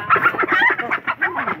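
A chicken clucks rapidly and loudly at close range, a quick series of choppy calls with no other sounds.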